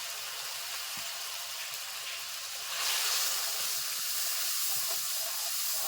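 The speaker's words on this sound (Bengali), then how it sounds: "মশলাটা খুব সুন্দর করে কষে নিতে হবে" Spice paste of chilli powder, Kashmiri red chilli, salt and turmeric frying in oil for a homestyle catla fish kalia, giving a steady broad sizzling hiss that swells louder partway through and continues without talk.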